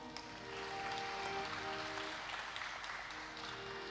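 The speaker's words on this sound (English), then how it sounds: "May we have a huge round of applause for the music team" An audience at a morning prayer assembly gives a faint, distant round of applause that swells briefly and then tapers off, with a quiet tonal hum underneath.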